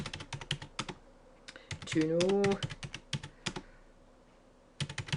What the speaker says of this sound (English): I'm not very good at typing, by the way.